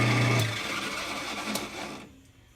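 A lathe spins a dowel pushed into a freshly drilled handle, giving a steady mechanical whir that is loud at first, then fades and drops off near the end with no talking.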